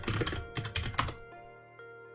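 Rapid clicking of computer keyboard keys while code is being written, a close burst of quick keystrokes that thins out into a few scattered taps before a final click.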